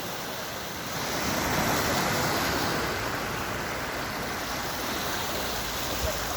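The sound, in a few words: tidal bore surging up a river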